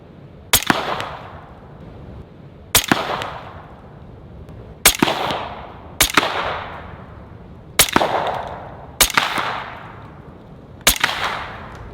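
Seven loud, sharp revolver shots from a Western Rattler .45 Long strike cantaloupes, spaced roughly two seconds apart, each crack followed by a short decaying tail, close and with no talk.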